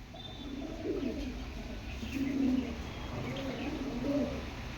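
Pigeons coo nearby in soft, low repeated phrases, several rolling calls rising and fading over a quiet background hum.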